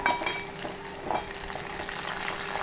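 Onion dropped into hot oil with curry leaves and reddened garlic for an oyster masala, giving a dense, even sizzle that stays close and steady throughout, with a few faint stirring knocks and no voices.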